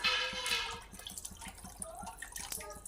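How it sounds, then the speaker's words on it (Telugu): Water is poured into a simmering paneer curry gravy for bagara rice, with a quiet splashing pour at the start followed by faint, rhythmic dripping and bubbling. "ఇప్పుడు నీళ్ళు పోసుకుందామండి గ్రేవీకి సరిపడా."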